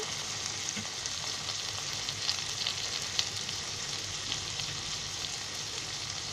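Onion with cauliflower and capsicum frying in a pan, a soft continuous sizzle with occasional small crackles and pops, low and steady, no voices.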